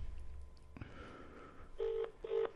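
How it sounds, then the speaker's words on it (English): A phone is dialed for a speakerphone call: a low thump, then a short run of electronic keypad tones in two brief bursts, fairly quiet and without talk. "let's just start ringing this now"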